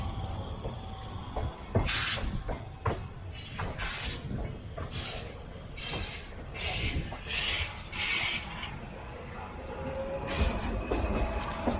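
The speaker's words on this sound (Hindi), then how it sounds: "8 नंबर प्लेटफॉर्म पर हमारी नर्मदा एक्सप्रेस लग रही है" The Narmada Express, train 18233, stands at platform 8, with a low steady rumble and repeated sharp hissing bursts of air brakes at irregular intervals, fairly close.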